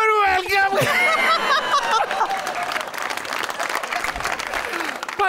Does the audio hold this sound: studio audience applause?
yes